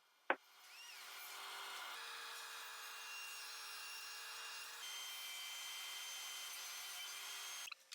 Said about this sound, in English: to get the stripes of wood to the right width, I used a table saw.